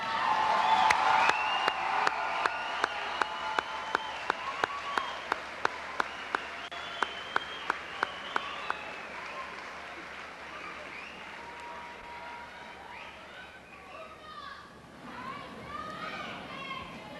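Graduates at a 2007 graduation ceremony applaud their parents and guardians, with crowd clapping and a few distinct sharp claps, fading over time as children's voices and chatter rise in the hall.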